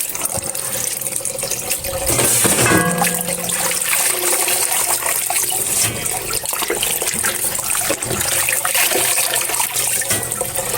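Mixed leafy greens, garlic and green chilies are washed by hand under running water, a continuous splashing rush broken by handling sounds and sloshes.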